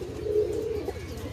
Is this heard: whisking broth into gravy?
no